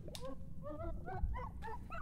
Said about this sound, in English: Oh, it's the dog with a tongue!